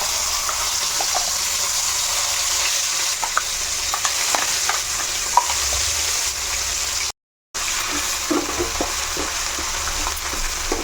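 Tempering spices for a tomato-coriander chutney crackle and sizzle in hot oil, a continuous close hiss with scattered pops and stirring, briefly cutting out partway through.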